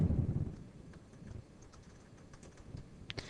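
Values typed on a computer keyboard, heard as faint, scattered clicks close by after a brief low thump at the start, with no talking.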